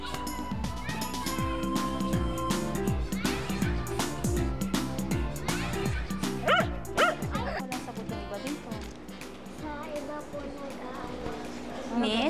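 A dog barks and yips repeatedly in short bursts amid a busy mix of music and voices, the barking near and fairly loud.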